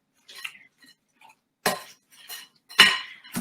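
A knife chops mozzarella on a cutting board, giving a few sharp, separate knocks with short pauses between them and quieter light taps in the gaps, clear and close with no talking.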